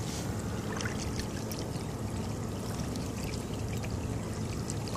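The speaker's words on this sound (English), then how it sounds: "we've got a few more waves just pulling up around the side of us here." Small waves lap and trickle steadily against the side of a kayak on a morning paddle near Hope Island, a continuous close watery wash with no talking.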